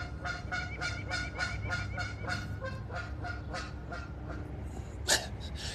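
A goose honks repeatedly in a steady run of calls, moderately close, over a low outdoor background rumble, followed by one sharper burst near the end.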